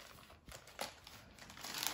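Plastic mailer bag around a newly ordered T-shirt being opened, a few close crinkles and rustles with a sharper tearing crackle near the middle, alone without talk.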